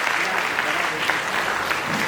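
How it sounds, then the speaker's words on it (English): An audience at a school dance fest and Mother's Day celebration claps for the teachers, a steady, moderately loud patter of many hands throughout with no talking. "So can we all clap for our dear teachers who have helped for us to prepare this today's function."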